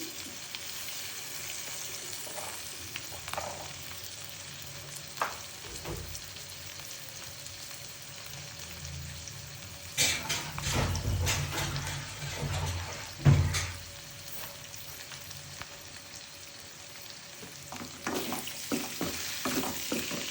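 Chopped tomatoes going into a hot pan for egg noodles set off a low frying sizzle with stirring and scraping, the sound swelling around the middle and staying moderately close, with no talking.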